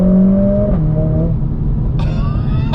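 A Mercedes-AMG A45 S at full throttle in sport plus mode roars loudly from close by, its pitch climbing, dropping at a gear change and climbing again.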